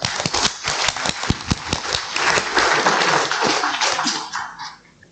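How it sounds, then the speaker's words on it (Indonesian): Audience applause for three panel speakers at a Javanese Sufism discussion forum, a dense crowd clapping that swells, holds steady for several seconds, then thins and fades out near the end. "mari kita berikan aplaus dulu kepada tiga pembicara ini"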